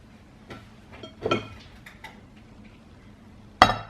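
A spoon stirs cheesecake filling of Philadelphia cream cheese, lemon juice and zest in a bowl, giving a few scattered scrapes and clinks with a sharp metallic knock at the end, close and fairly quiet.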